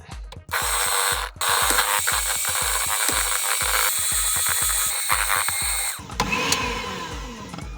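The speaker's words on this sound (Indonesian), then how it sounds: "Masukkan gulanya, kemudian SP-nya, lalu ini akan kita mixer sampai putih, mengembang dan berjejak." An electric hand mixer beats sugar and cake emulsifier for a potato cheese sponge cake, a loud steady motor whir with rapid rhythmic clattering of beaters against the bowl, briefly stopping near the start and changing tone at the end.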